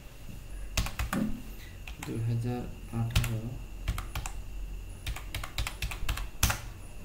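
Keys clicked on a computer keyboard as a child's birth registration number is entered for typhoid vaccine registration, sharp taps coming in short irregular bursts, close by, with a voice speaking partway through.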